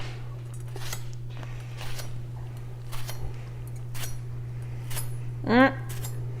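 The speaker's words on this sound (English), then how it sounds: "I want the knife to cut through the onion, not all the way through, so I can slice." A VG10 Damascus kitchen knife slicing an onion on a board, a series of crisp, evenly spaced cuts and light taps under a steady low hum, with one brief squeaky scrape near the end.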